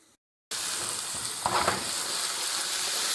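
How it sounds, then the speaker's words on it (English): Potatoes, parsnip and carrot sautéing together in butter in a pan give a steady, close hiss of sizzling after a brief quiet start, with a short louder burst midway as the vegetables are stirred. "Those potatoes and the veggies are all sauteing together."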